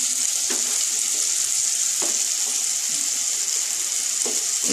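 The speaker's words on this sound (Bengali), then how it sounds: "এবারে এই সর্ষে বাটাটার মধ্যে একটু জল দিয়ে পাতলা করে, আমি গরম জল ফ্লাক্সে রেখেছি" Hot water from a flask poured into mustard paste, a steady close hissing, splashing pour lasting throughout at fairly even loudness, with no talking.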